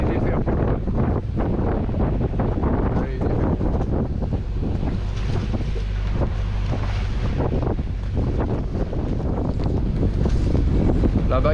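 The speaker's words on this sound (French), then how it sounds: "Et on a 20 nœuds de vent là." Strong wind, around 20 knots, buffets a sailboat at sea, roaring and rumbling continuously against the microphone, with water sloshing and faint voices mixed in.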